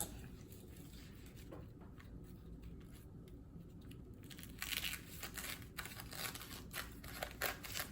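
Scissors snip through a crisp nori seaweed sheet for Hawaiian Spam musubi, giving quiet, close crinkling cuts that grow a little louder and more frequent partway through.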